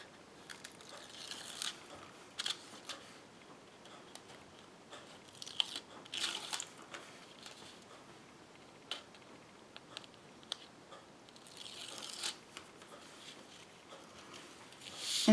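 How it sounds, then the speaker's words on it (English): Adhesive backer sheets being peeled off card-making pieces for a shaker card, heard as scattered soft crackles and sharp ticking peels, close and quiet, with brief bursts of crinkly tearing. "I'm going to peel off these backer sheets"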